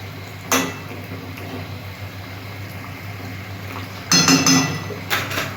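A pot lid comes off and fried fish go into the pot, giving sharp metallic clanks and knocks that stand out against a low steady background hum.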